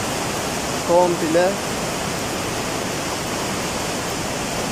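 Dilli Creek in Kemaliye swollen after heavy March rains, a loud, constant broadband rush of fast water filling the whole stretch, with a brief voice speaking over it near the start.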